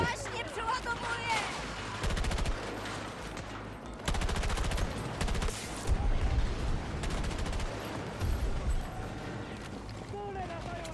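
Gunfire in Battlefield 2042, with sharp bursts of automatic fire in several loud clusters spread across the scene among scattered shots and combat noise, while a player talks throughout.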